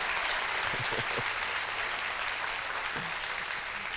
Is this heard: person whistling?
no